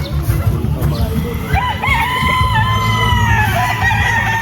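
A Tornado Hatch gamefowl rooster of the Mount Banahaw line at a farm crows loudly in drawn-out, wavering calls and gives a few clucks, close by, over low background noise.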